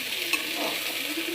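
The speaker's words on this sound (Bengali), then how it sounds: "তো এটাকে ভালো করে একটু ভাজা ভাজা করে নিচ্ছি মশলাগুলো" Spices such as cumin, panch phoron, dried chillies and bay leaves fry in oil in a pressure cooker for daliya khichuri, giving a short, soft sizzle with a light stirring scrape and no talking.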